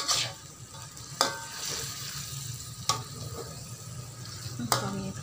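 Finely minced garlic sizzles steadily in a hot pan, punctuated by a few sharp scrapes and clanks of a spatula stirring, close and moderately quiet.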